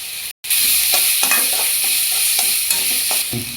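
Cinnamon, cloves, cardamom and chilli powder fry in hot oil in a pan, a loud continuous sizzle with repeated scraping stirs, briefly cut off near the start.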